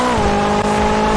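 A Ferrari in the Roblox game Driving Empire drives with a steady, loud engine tone held under a continuous whine, brief and close.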